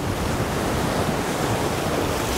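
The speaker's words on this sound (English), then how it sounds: "I'm worried about these waves coming in too close and splashing me and my camera." Sea waves break on a rocky shore at Batroun, Lebanon, with a loud continuous roar of surf and gusting wind buffeting the microphone, close and unbroken with no voices.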